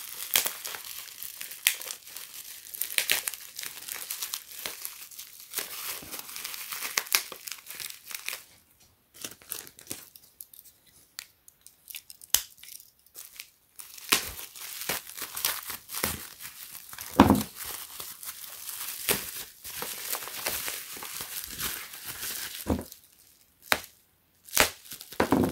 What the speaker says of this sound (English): So in a nice bubble wrap, prevent from getting damaged from the carrier.